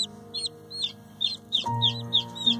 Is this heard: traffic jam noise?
no